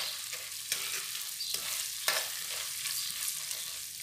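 Popcorn kernels get stirred in butter in a pot, a soft scraping and shuffling under a constant gentle sizzle, with a few brief louder scrapes, close and fairly quiet, no voices.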